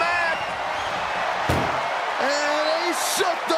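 A vehicle door slams shut at the end of an ambulance match in the wrestling video game WWE 2K25. One sharp, loud impact lands amid steady arena crowd noise, followed by sweeping game sounds.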